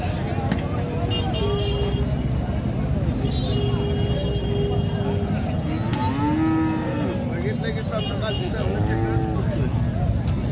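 Several cows moo repeatedly at a cattle market, some long and drawn out, over a busy background of people talking and general market bustle.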